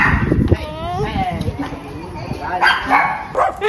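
Small pet dogs at a home garden in Portugal yip, whimper and bark excitedly, close by, while people talk over them.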